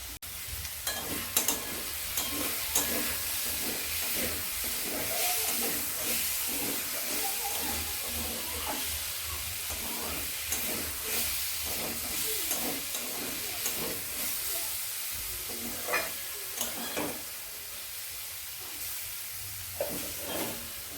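Brahmi greens frying and being stirred in a pan, a steady close sizzle and hiss with repeated scraping stirs throughout.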